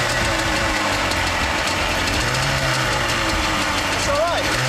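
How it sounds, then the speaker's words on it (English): A scrapheap-built motorised surfboard engine runs with a rough, knocking drone, loud and continuous, with people talking over it. "has Jim knackered the engine?"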